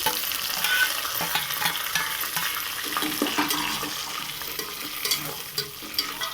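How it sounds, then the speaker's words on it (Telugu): Carrots, beans and mint frying for veg biryani are stirred in a pan, giving a close, continuous sizzle with scraping stir strokes throughout. "అవి బాగా మిక్స్ అయ్యేంత వరకు కలుపుకుందాం."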